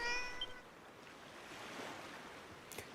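A cat meows briefly in Dragon Quest 7, a short tonal call at the start, faint over a soft rushing ambient bed like wind or surf, with a small click near the end.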